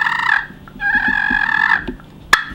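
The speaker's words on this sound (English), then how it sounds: "Just let that striker skip across the surface." Close, loud clucks and purrs from a slate turkey call and striker: a short cluck, then a long rolling purr, a few clicks and a sharp final cluck, no voices.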